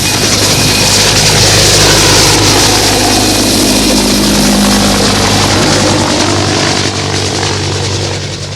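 A rescue helicopter flies over the sea, its engine and rotor roar loud and continuous throughout, fading only slightly at the end, with no voices.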